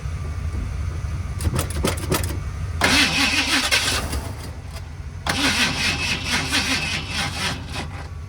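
The engine of a 1978 Ford F-150 with a carburetor and a weak battery cranks loudly with a rhythmic chug, catches briefly with a rough roar, drops back, then fires again, all close and with no voices.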